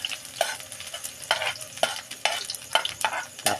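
Ginger frying in hot oil for a spicy tuna dish: a steady sizzle, close and moderately loud, broken by repeated scraping stirs of a utensil in the pan.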